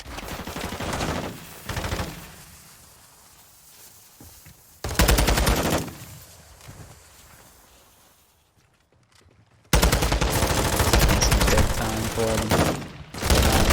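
Bursts of rapid machine pistol fire and other gunfire crackle through a Call of Duty esports grand final match, dense and loud, with steady background game noise between the volleys.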